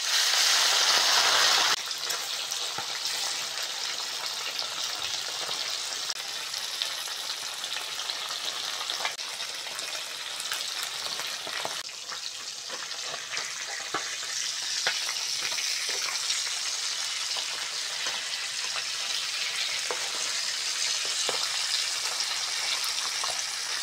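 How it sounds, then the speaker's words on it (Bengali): Bata fish fry in hot oil in a wok, giving a loud, continuous spattering sizzle that holds steady for the whole stretch, close up and alone without voices. "তেল ভালোভাবে গরম করে নিয়েছি,"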